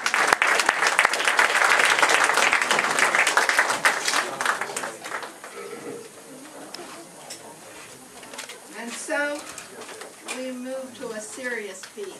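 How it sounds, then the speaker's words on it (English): An audience at a radio drama class performance gives a loud, dense round of applause that fades after about five seconds, followed by quieter talk and a few pigeon-like coos. "Let's have a round of applause"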